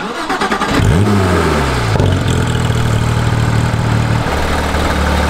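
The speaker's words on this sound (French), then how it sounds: "Mais bon les gars c'est le flat 6 Porsche." Porsche 991.2 GT3 flat-six engine revving hard, climbing in pitch, easing back to a rough idle and rising again, loud and close, with no talking.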